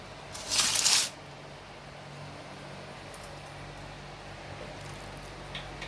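Potatoes being mixed by hand with pointed gourd and salt: one short, close squishing rustle near the start, followed by quiet room hiss.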